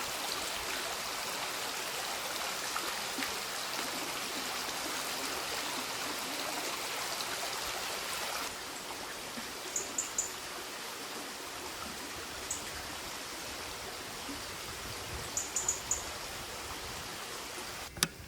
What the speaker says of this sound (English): this footbridge gives us our brief encounter with the delightful sounding River Mint